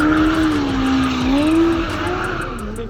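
A Formula Student race car spins through a donut, its tires squealing in a long wavering screech over a rough engine roar, loud and close throughout.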